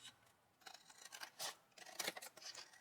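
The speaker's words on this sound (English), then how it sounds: "or you can use the scissors also." Scissors snip through excess paper while a watercolor and mixed media journal is being made, a quick series of crisp, close cuts and rustles.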